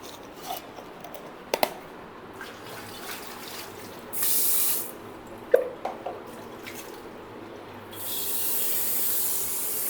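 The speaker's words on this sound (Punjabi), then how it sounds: "ਇਹਨਾਂ ਨੂੰ ਦੁਬਾਰਾ ਇੱਥੇ ਟ੍ਰੇ ਤੇ ਰੱਖ ਕੇ ਫਿਰ ਆਪਾਂ ਪਾਣੀ ਪਾਉਣੀ ਹੈ ਦੁਬਾਰਾ ਬਦਲ ਕੇ" Fresh water poured from a tap over boiled eggs sitting in a tray: two steady rushing bursts of running water, separated by scattered clicks and clinks from handling the eggs, with no voices.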